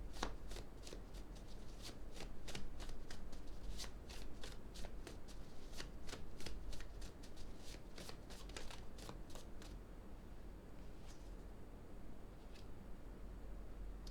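Oracle cards shuffled during a card reading, a long steady run of soft papery riffles and flicks close by over a faint hiss, easing into occasional single taps, with no talking.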